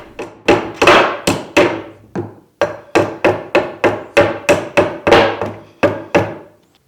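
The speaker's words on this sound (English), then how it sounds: "I'm hammering in the oak dowels into that bottom shelf" A hammer drives oak dowels into a wooden bottom shelf: about fifteen loud, sharp wooden knocks in a fairly regular rhythm, close by with nothing else heard.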